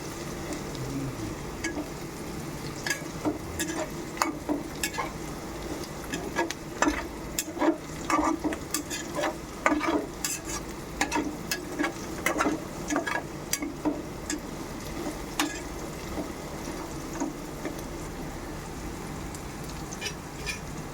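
Green chillies frying in a pan, a low hiss of oil punctuated by irregular clicks and scrapes of a spoon stirring, fairly quiet and close for about twenty seconds.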